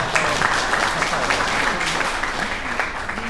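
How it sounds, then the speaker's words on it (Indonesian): Clapping from a workshop audience at a property developer event, steady dense applause sustained throughout at moderate loudness, with faint crowd murmur beneath. "Ayo tepuk tangan dong."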